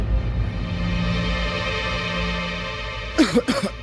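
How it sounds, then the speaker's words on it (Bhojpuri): A man coughs and clears his throat several times in a short burst near the end, after a few seconds of quiet room tone, fitting a mild cold with cough. "वो मामूली सी सर्दी खांसी है"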